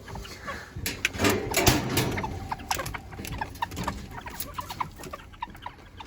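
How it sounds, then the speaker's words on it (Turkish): Small serama chickens cluck and chatter in a busy, overlapping flock, with sharp repeated calls over a rustling background. "Arkadaşlar serama horoz var."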